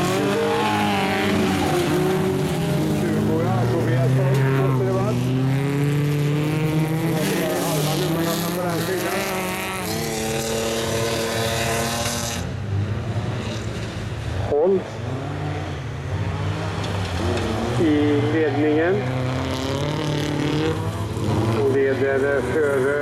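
Speedway motorcycles race a qualifying heat at Nässjö, their engines a loud, continuous roar rising and falling as the bikes sweep past, with an excited commentator talking over the noise throughout.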